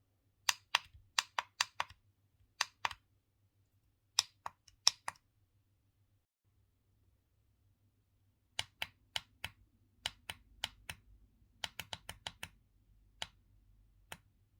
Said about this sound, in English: the buttons make a really nice and clearly audible click sound when pressed